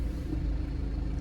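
BMW 420d with a 2-litre inline-four turbo diesel, a low rumbling idle just after start-up, steady and fairly close, heard alone for a brief moment.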